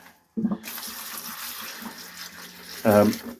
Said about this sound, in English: I'm just giving them each pot of water